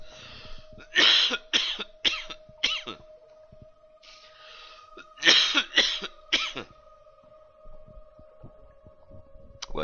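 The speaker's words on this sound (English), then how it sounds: "Aside from about to have a coughing fit" Two bursts of rapid, raspy coughing, each several coughs in a row, heard fairly close over a steady electrical hum during a Factorio gaming session, with a pause between bursts.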